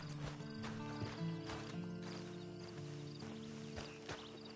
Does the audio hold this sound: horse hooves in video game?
yes